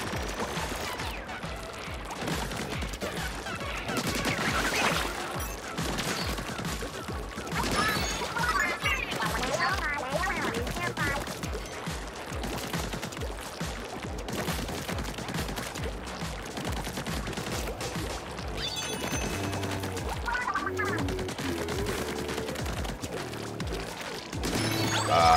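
Octo snipers firing in the Splatoon 3 video game, with dense, continuous bursts of splattering shots, crashes and impacts that run without pause at a steady, busy loudness.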